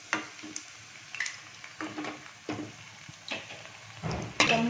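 Kofta frying in a pan on the stove, with a soft sizzle under repeated scraping and stirring clinks of a spoon against the pan, close and moderately loud, with no talking.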